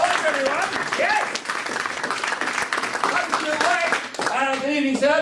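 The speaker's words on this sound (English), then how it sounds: "Can we have a wonderful round of applause, everyone?" Audience applause for a couple called up on stage at a Friday night magic show, dense and sustained throughout, with a voice and cheering rising over the clapping near the end.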